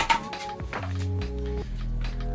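A split of dry, seasoned oak or pecan firewood for an offset smoker drops and knocks hollowly against other wood, a short woody clunk followed by a lingering resonant ring, close and fairly quiet.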